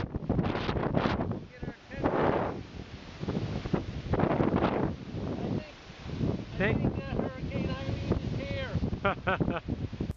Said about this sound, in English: She's pretty windy.